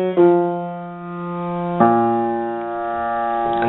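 Piano plays a film theme with the sustain pedal held: two sustained chords struck a couple of seconds apart, ringing and slowly fading, followed by a soft third onset, with no talk.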